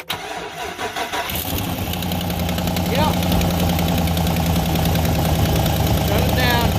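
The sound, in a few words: 2005 Chevy 2500 truck engine starting and idling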